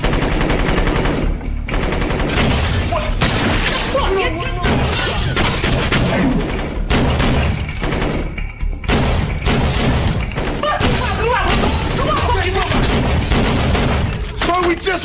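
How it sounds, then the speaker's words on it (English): Dense bursts of automatic and single gunfire fill a film shootout in a Haitian neighborhood from Bad Boys 2 (2003), loud and continuous with booming impacts and voices shouting underneath. "They can't hear you because they're still shooting at you."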